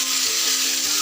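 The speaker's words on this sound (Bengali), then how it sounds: "টুকরো করে রাখা কাঁচা টমেটোগুলো তেলে দিয়ে এটাকে ভালো করে নাড়তে হবে" Chopped raw tomatoes frying in oil in a pan for a Bengali fish curry, a steady close hiss of sizzling alone.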